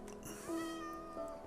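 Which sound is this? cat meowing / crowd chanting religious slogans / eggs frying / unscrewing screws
cat meowing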